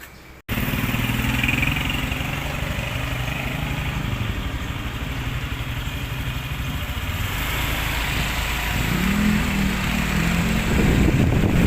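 A motorcycle engine runs steadily up close, its low rumble rising slightly in pitch and intensity toward the end as if revving.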